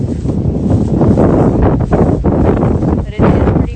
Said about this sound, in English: I know it's really windy right now